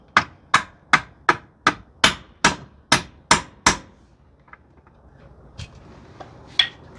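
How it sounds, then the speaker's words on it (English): A mallet strikes a bolt through an engine guard spacer on a Honda Rebel 1100, about ten sharp, evenly spaced close knocks in quick succession, followed by a few faint scattered taps. "use a mallet to drive the bolt in"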